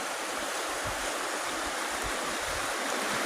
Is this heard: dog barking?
no